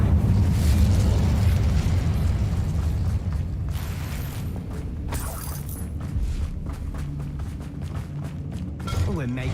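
An Incendio fire spell blast in the wizarding game Hogwarts Legacy, a heavy roaring whoosh and boom that opens loudly and rumbles down into crackling combat noise, with a voice speaking over it.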